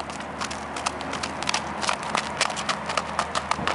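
A ridden horse with a saddle and a white blaze walks along, its hooves making a steady, fairly loud clip-clop rhythm over a continuous outdoor background, with no voices.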